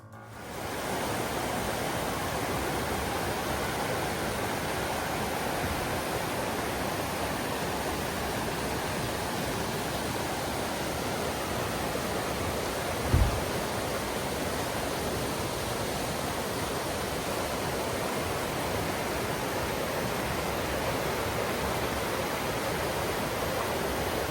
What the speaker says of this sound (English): then we did get over to the river. Listen to this.